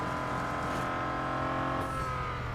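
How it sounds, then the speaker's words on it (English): A race car engine in the Real Racing 3 video game drones steadily and loudly, its tone holding for a few seconds and then dipping briefly as the gear changes. "Weird noise this car makes."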